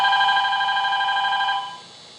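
A telephone rings with one sustained, bright electronic trill for about a second and a half, then cuts off and fades, heard close and clear with no one speaking.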